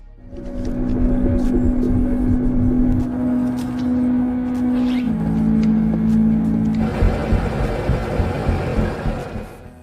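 A car drives steadily with a low engine hum that shifts pitch midway, and the sound broadens into louder road and wind rumble near the end; no one speaks.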